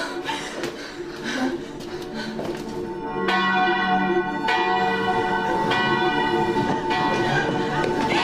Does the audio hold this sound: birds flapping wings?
no